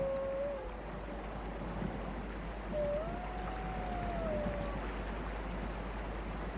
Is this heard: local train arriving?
no